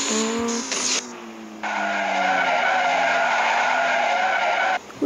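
A car in a sports car racing video game brakes hard, giving several loud sustained tire skids and squeals with engine tones, close and continuous.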